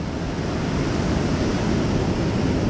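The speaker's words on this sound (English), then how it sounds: "those waves, I think tide is coming in" Ocean surf on a North Carolina beach as the tide comes in, a loud, continuous roar of breaking waves mixed with wind buffeting the microphone.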